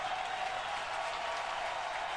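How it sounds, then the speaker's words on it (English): A large baseball crowd at an LSU home game in Baton Rouge, a college super regional, roars and applauds continuously with a loud, steady wash of cheering throughout. "Listen to this crowd."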